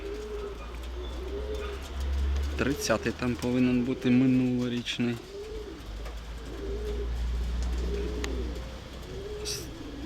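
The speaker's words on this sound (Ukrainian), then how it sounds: "Крупнявий такий голубочок." Domestic pigeons coo in soft repeated rounded calls near the microphone over a low hum, with someone talking through the middle of the stretch.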